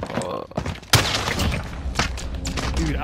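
Video game gunfire rings out in a map-based shooter match: a loud burst of shots and booms, close and dense, with a player's voice talking over the action.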